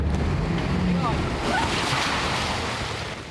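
Huge ocean waves roar and wash continuously around a rescue boat backing stern-first through heavy surf, with wind buffeting the microphone throughout.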